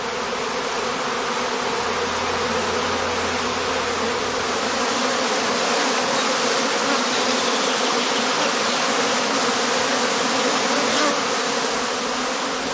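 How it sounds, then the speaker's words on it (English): A honeybee cast swarms out of a heather skep in a heathland apiary, a dense, loud, steady buzzing drone of many bees filling the air without pause. "If a cast is thrown off now, the swarm follows the queen out of the skep entrance in a regular cascade."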